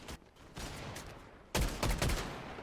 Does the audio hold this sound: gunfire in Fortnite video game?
yes